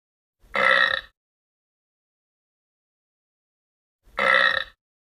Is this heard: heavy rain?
no